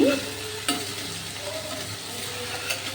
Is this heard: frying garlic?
yes